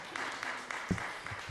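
Applause in a board chambers at a committee meeting, a brief, faint patter of clapping from a crowd heard at a distance.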